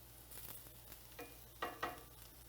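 Onions browning in a pan for poblano and cotija tamales give a faint, steady sizzle, with a few brief louder scrapes and crackles as they are stirred.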